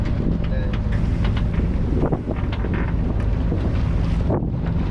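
Strong wind buffets a sailboat heading into a squall in foul weather, a constant loud roar with gusts and rattling, while people talk faintly underneath.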